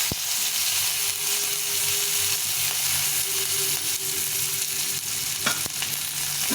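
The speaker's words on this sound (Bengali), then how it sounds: "আজকে এগুলোকে ভেজে নেব।" Shredded cabbage and carrot fry in a pan with a steady bright hiss and sizzle, broken by a few clinks of stirring, close and continuous with no voices.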